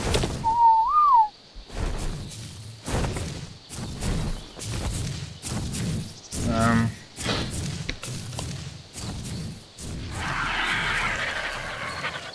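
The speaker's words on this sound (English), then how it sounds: "I forget the whistle for passive." A short rising-and-falling whistle command for passive mode in Ark: Survival Evolved sounds near the start, followed by a run of repeated dull in-game thumps with a voice-like murmur in the background.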